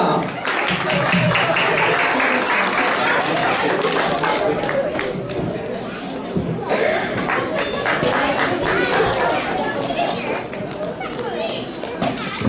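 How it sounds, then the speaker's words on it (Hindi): Applause from the audience at a live drama stage performance, a continuous crowd of clapping mixed with children's voices and chatter throughout, loud and busy. "तालियां।"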